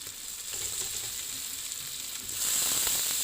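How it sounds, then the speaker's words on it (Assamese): Tomatoes frying in a pan with ginger, garlic, onion and turmeric give a steady, close sizzle that grows louder and brighter in the last second, with no voices. "বিলাহীখিনি দি মই অলপ সময় ভালদৰে ভাজি ল'ম।"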